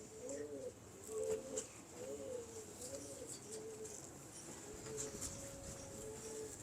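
Several rounded, repeated coos from a pigeon, fairly close and steady, with a faint background hiss and no talking.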